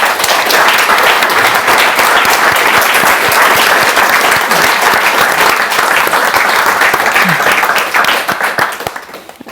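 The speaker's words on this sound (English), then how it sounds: "It's good to take the applause for your words." A bookshop audience at a poetry reading breaks into loud, dense applause right after the poems end. It is sustained for around eight seconds before tapering off.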